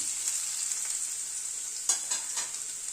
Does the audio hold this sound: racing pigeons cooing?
no